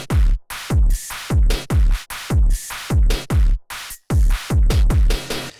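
An Ableton drum kit with saturation and boosted low end: punchy, booming kicks and crisp snares in a steady repeating pattern, loud and dry, with short gaps between hits and no talking.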